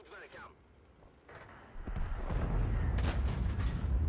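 A tank cannon fires in World of Tanks, a low, booming blast building near the end after quieter rumble, with a voice speaking over the start.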